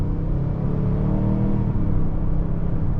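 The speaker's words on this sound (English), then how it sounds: "And accelerating here in normal mode." A 2023 Lincoln Navigator Reserve SUV accelerates in normal driving mode, its engine giving a steady, loud rumbling drone with a smooth whir that holds throughout, heard from inside the cabin.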